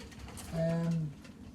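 Pigeons in a loft, birds going through the moult, give a single low, drawn-out coo of about half a second, fairly close and clear over a quiet background.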